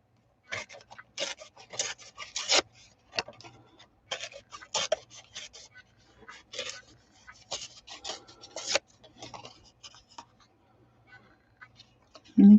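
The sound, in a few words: tearing a paper image by hand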